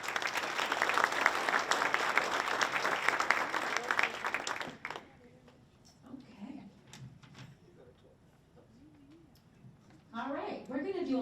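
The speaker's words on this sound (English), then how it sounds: "Let's give Mr. Lord a round of applause." Audience applause at a college panel event: a dense round of clapping for about five seconds that dies away, followed by quiet room sounds and then a person beginning to speak.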